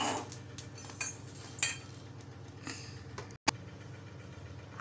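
Dry-roasted wheat grains tipped out of a pan into a metal plate, with scattered clinks and rattles of grain and metal over a low steady hum in a home kitchen, with one short silent gap.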